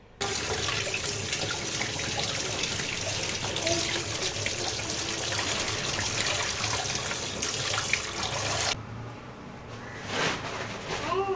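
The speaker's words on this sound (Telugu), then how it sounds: "ఫస్ట్ అయితే ఈ చికెన్ని నీట్గా వాష్ చేసేద్దాం" Raw chicken being rinsed under a running kitchen tap, a steady loud rush of water splashing into a sink for about nine seconds, then dropping away briefly before resuming.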